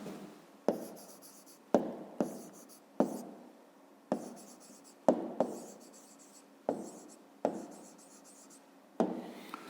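A pen or pencil writes out the answer to a fifth-grade math word problem on paper, in a series of short scratchy strokes with small pauses between them, close and quiet.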